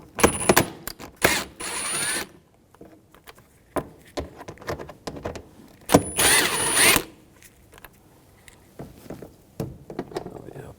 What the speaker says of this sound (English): Now we're going to take these screws out on the inner fender well